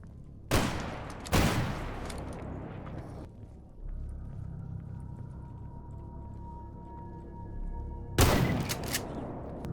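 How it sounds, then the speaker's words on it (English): A 4 gauge shotgun fires in S.T.A.L.K.E.R. GAMMA: two loud, booming blasts close together, a rumbling tail, then a third heavy shot after a pause. "And that is what a 4 gauge does to a fella"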